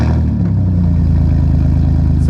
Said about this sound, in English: Let's get a cold start on this hoopty to see what it sounds like